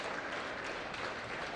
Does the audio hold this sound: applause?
yes